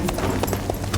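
Horse hooves clip-clopping through a graveyard among tombs, a quick run of close, uneven thuds heard over a dense, noisy background.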